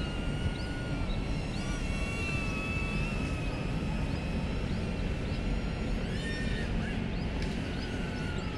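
A DJI Neo drone flying and maneuvering outdoors, a steady whining buzz from its rotors with shifting tones over continuous background noise.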